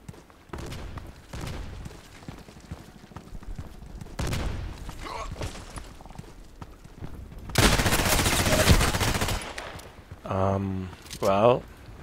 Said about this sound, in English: So it's more precise shooting.